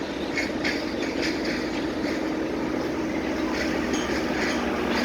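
A train rolls past steadily with a rhythmic clatter of wheels over the rail joints, loud and continuous.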